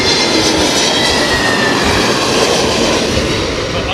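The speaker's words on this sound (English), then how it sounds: "Another Pratt powered jet. This one a 321neo, KLM's new 321neo." A KLM Airbus A321neo jet with Pratt & Whitney engines at London Heathrow gives a loud, continuous broadband engine roar that holds steady throughout, with no voices.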